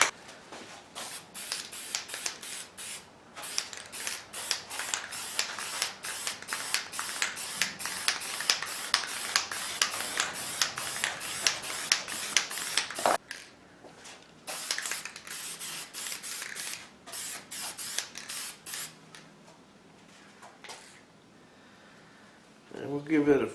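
Aerosol spray paint, high gloss black, applied as a top coat to a restored cannon part, in a long series of short, rhythmic hissing bursts, close and clear, followed by a few sparser sprays.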